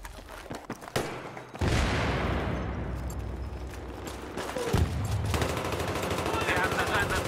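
Battlefield 3 gunfire: after a few scattered shots, loud sustained automatic bursts and explosions rumble on with dense rattling shots, while a voice speaks over the shooting.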